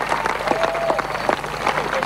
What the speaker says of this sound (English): the applause is just as loud for the next three over the line